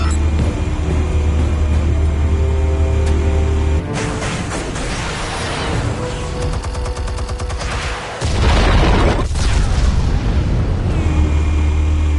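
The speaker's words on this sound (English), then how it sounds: "Explosives armed. Fire when ready." Explosives going off in Batman: The Telltale Series, a loud sustained roar of blasts and rumbling debris with a sharp burst near the middle and heavy low-end booming throughout.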